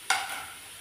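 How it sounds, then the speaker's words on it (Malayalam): Chopped curry leaves hit hot oil with onions in a pan, giving one brief, close sizzling burst that quickly settles into a soft, fading hiss. "കറിവേപ്പില ചെറുതായി അരിഞ്ഞുകൊണ്ട് ഇതിലേക്ക് ഇട്ട് കൊടുക്കാം കേട്ടോ. ഞാനിത് നന്നായി വഴറ്റിയെടുക്കാം."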